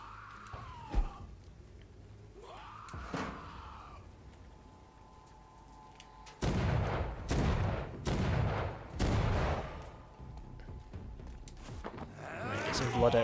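Bursts of gunfire in a vampire action game, several loud volleys coming in clusters with short gaps, alongside someone talking over the combat.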